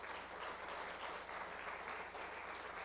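A church congregation applauding during a sermon, with dense, sustained clapping from many hands that holds at a steady level throughout, filling the room with no pauses.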